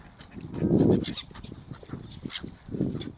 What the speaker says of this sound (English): Those geese seem to have broken out into a different red arrows formation.